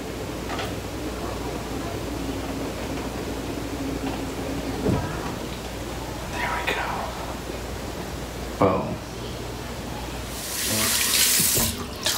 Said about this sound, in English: Wash this face.